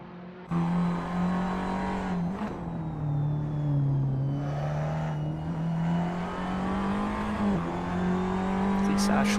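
Tatuus race car engine in a racing video game, holding a steady loud drone through turn 10 at Barcelona, pitch dipping and rising as it takes the corner, with commentary over it.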